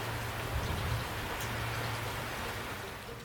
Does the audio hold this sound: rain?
yes